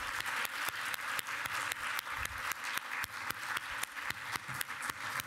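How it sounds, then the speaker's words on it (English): Audience applause at a graduation ceremony for fellows, heard as faint, evenly paced claps from a crowd that hold a steady rhythm throughout. "If I could have another round of applause"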